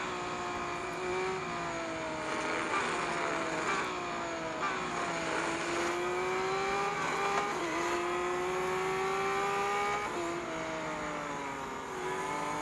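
Porsche 918 hybrid race car engine in a racing video game, a loud continuous whine that climbs steadily through each gear, drops at every upshift, then climbs again, with no talking.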